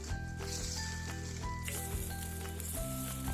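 Chicken pieces sizzle steadily in a 20 cm granite non-stick casserole pot, close up, with occasional stirring scrapes.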